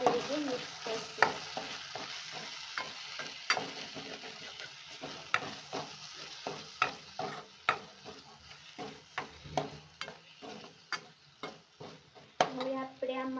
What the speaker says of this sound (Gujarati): હવે આપણે સારી રીતે મિક્સ કરશું.